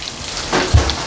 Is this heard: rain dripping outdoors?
yes